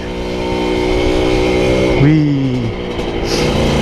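Small old Honda Nova Dash motorcycle engine running while riding, a steady buzzing drone with a brief rev swell midway, close and loud under a short spoken exclamation.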